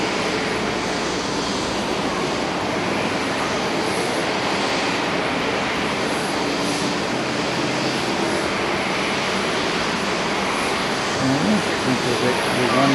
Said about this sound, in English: This is actually one that is doing the startup, making a little bit of noise in here.